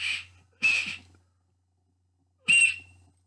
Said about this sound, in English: I think it's a whistle